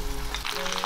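Tofu and eggs hit hot oil with garlic in a clay pot, giving a close, steady sizzle that brightens into crackling frying partway through the short moment.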